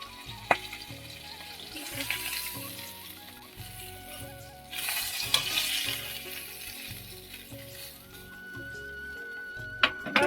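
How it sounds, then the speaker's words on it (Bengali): Hilsa fish, rubbed with salt and turmeric, fry in a pan with a steady sizzle that swells midway. Occasional clinks and scrapes of a utensil rise over it, and faint background music plays. "এখানে আমার বোন মাছগুলো ভেজেও নিয়েছে, নুন হলুদ প্রথমেই তো মাখিয়ে নিল"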